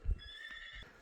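A young horse offered for sale lets out a brief, fairly faint, high whinny over a quiet background.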